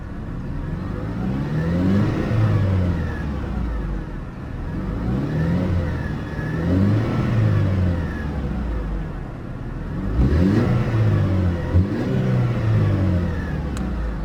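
A 2005 Mercedes-Benz C180 Kompressor engine runs and revs in repeated swells, pitch rising and falling several times, fairly close and steady with no talk.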